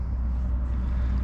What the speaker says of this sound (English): As you can hear the traffic going by.